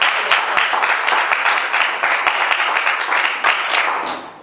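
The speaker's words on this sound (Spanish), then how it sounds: "Denle un aplauso, Señor, en esta noche." A church congregation applauding at an evening service, dense sustained clapping from many hands that carries on for several seconds and then fades slightly at the end.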